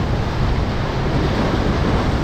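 Ocean waves washing onto the shore at Herring Pond, Portstewart, near sunset, a loud continuous roar of surf with wind buffeting the microphone, no voices.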